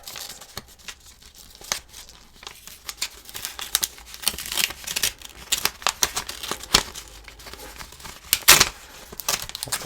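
Packaging of a Kindle Scribe is opened by hand, giving close, irregular crinkling and tearing of wrapping in rapid crackly bursts with no talking.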